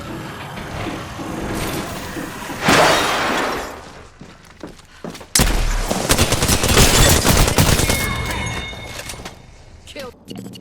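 Bursts of gunfire in the Apex Legends video game, loud and close with rapid shots, sharp impacts and shattering effects, separated by brief quieter gaps and game voice lines.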